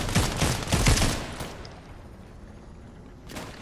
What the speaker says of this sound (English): There's more shooting back here.